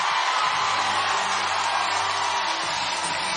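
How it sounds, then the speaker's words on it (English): A basketball arena crowd roars loudly and continuously during an Illinois–Ohio State Big Ten women's game, a dense, steady wall of cheering with a few whoops. "The crowd erupting here."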